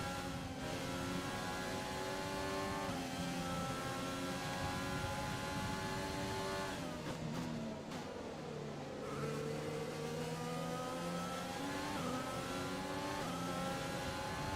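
F1 race car engines in the F1 2020 video game, set at the Dutch and Spanish circuits, scream steadily at high revs with rising and falling gear-change pitch sweeps and an overlapping passing car, loud and continuous with no talk.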